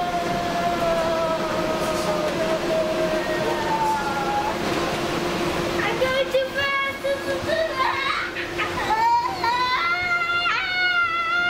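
A train runs with a steady rumble and whining tones that rise and fall, while voices chatter faintly in the background.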